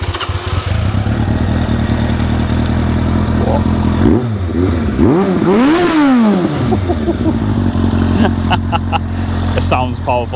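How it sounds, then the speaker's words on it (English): A Suzuki Bandit motorcycle engine runs loudly and close, with a rising and falling rev in the middle over a steady idle, while people talk nearby. "start it up, give it a little rev"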